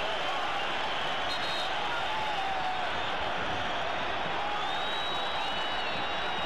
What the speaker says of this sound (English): here the crowd's reaction to that decision